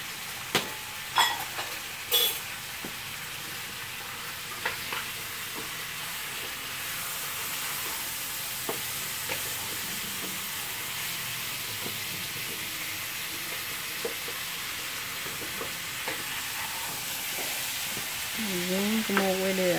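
Garlic and onion fry in a pan with a soft, steady sizzle throughout, marked by occasional clinks and stirring knocks early on, while a voice talks quietly in the background.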